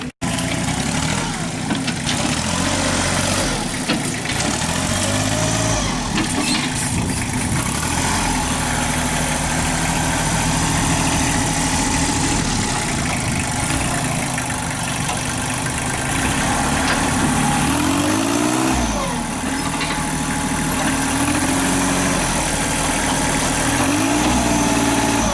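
A tractor engine idles and runs steadily up close, a continuous low rumble holding for the whole stretch with small shifts in load, no talk over it.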